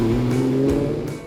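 A 1960 Ferrari 250 GT with traditional aluminium bodywork, a former Tour Auto winner, drives past during the Tour Auto, its engine droning loudly and steadily close by, with a few brief surges in the revs.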